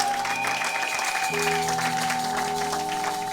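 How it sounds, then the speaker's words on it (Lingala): A church congregation claps steadily in a dense, sustained round of applause, with sustained musical tones and background sound running underneath throughout. "Acclamons pour la gloire de notre Dieu et de notre Seigneur."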